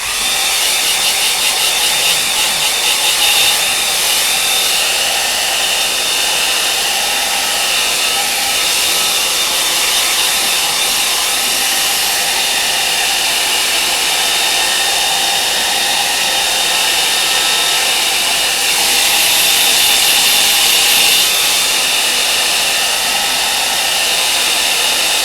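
A hair dryer blowing on a watercolour painting of Octagon Lake at Stowe, a loud steady whirring hum held without pause throughout.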